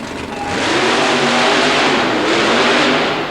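A supercharged super modified mud racing Jeep roars off the starting line at a 1990 Baltimore event, its engine revving hard and loud in a sustained rising blast with no talk over it.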